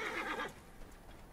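A horse in the video game Assassin's Creed Origins gives a short, loud whinny followed by quieter soft hoof clip-clops, with no talking.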